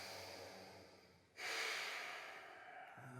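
Deep exhale during a yoga backbend practice, a sudden broad rush of breath after a quieter stretch, close and steady before easing off, with no talk.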